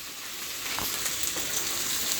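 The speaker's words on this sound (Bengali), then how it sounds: "এবার আমি যে সবজিটা নিয়েছি, সবজিটা ভাজি" Vegetables frying in a pan with oil for a South Indian dish give a steady, close sizzling hiss that stays even for a couple of seconds with no talking.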